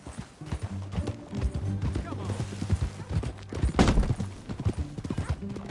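A horse in the Red Dead Redemption 2 video game gallops with thudding hoofbeats under steady background music, a brief louder burst near the middle, and no clear talk over it.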